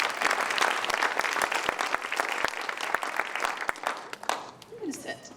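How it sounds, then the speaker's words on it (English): An audience at a community forum claps steadily, dense and sustained, then the applause thins and fades near the end with a few scattered claps and a voice rising faintly underneath. "I want to give a round of applause"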